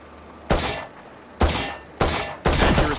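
Gunshots from a pistol aimed at a flying target on a Valorant training range: four sharp, loud shots fired one at a time with short uneven pauses, each with a brief crack and a quick decaying tail.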